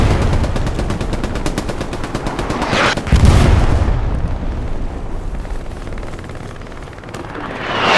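Artillery fire in the Hell Let Loose battlefield game, a dense barrage of booming blasts and rattling gunfire with a heavy impact near the middle, loud and continuous with no voices over it.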